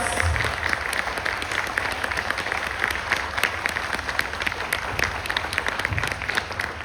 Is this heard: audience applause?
yes